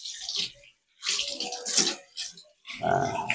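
Dishes being washed under a running tap, with bursts of water splashing and rushing over plates in a sink, broken by short pauses where the flow stops.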